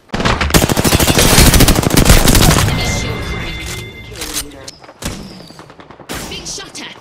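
Rapid bursts of automatic gunfire fired at the player in a video game, loud and dense at first, then tapering into scattered shots and thuds with electronic tones, heard up close.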